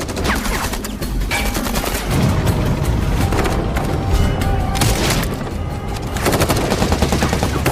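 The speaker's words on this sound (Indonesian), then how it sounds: "Film dibuka dengan aksi bedil-bedilan sengit antara pasukan teroris Irak dengan tentara Amerika" Intense film battle gunfire between Iraqi terrorists and American soldiers, dense rapid bursts of automatic shots and booms, loud and continuous throughout.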